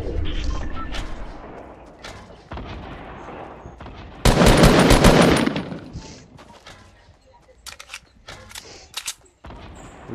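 Gunfire in original Fortnite comes as scattered shots and bursts, first at a moderate distance, then one loud close volley, and after it sparse sharp pops separated by quiet gaps.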